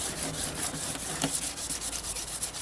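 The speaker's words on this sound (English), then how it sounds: "Just gonna do some sanding." Steady abrasive rubbing of sandpaper on a plastic headlight lens during restoration, a continuous close scratchy texture with a rhythmic back-and-forth pulse and no talk.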